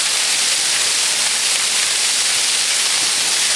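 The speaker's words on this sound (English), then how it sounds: "This is one of the many waterfalls." A waterfall pours down in a canyon on a rainy day, a steady, loud, even rush of water with no voices.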